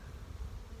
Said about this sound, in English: Such an optimistic sound in the bee yard right now.